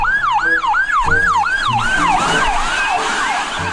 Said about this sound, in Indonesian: yang ini mobil ambulans